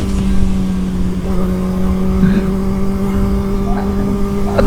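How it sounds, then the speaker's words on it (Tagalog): A Kawasaki ZX-4RR motorcycle engine droning at steady high revs with a strong sustained tone, loud and close, slightly rising pitch midway, no voices. "napaka-screamer na itong motor na to mga pis"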